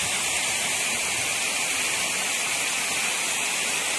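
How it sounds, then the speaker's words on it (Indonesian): Heavy rain pours steadily at a river washing spot on Kali Kemiri in Nglipar, Gunungkidul, making a dense, unbroken hiss that fills the whole stretch without pause and with no voices. "hujannya makin deras"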